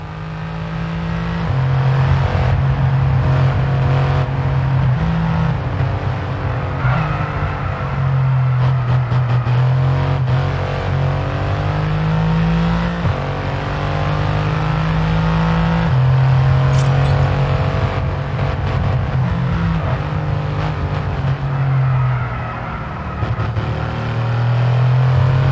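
Formula 1 race car engines in the F1 2022 video game, a loud continuous high-revving whine that rises and falls with gear shifts and throttle, sustained for the whole stretch with no talking.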